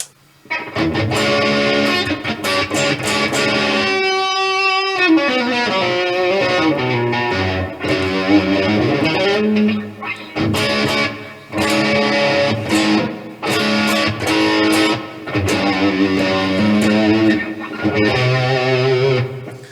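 Kramer Pacer Classic electric guitar plays sustained notes and bends through compressor and delay with a spacious reverb tail, loud and continuous with brief pauses between phrases.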